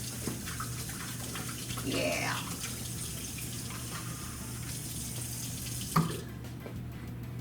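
Hot water flows from a tap into a sink, a steady rushing stream with a short word spoken quietly and a small knock near the end.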